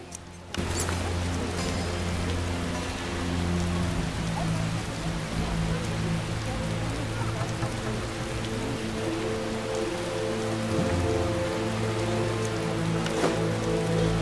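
Rain falls over a swamp in The Witcher video game, a steady hiss of drops pattering on surfaces beneath a low, sustained musical drone, with faint tapping here and there.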